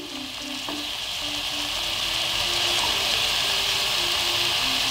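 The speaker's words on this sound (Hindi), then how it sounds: "अब मैं इसे थोड़ा तेज आंच पे तरह से मिक्स करूँगी" A beet and tomato soup mixture is stirred in a pan over high heat, producing a continuous loud sizzle with soft stirring sounds underneath that grow slightly stronger toward the end.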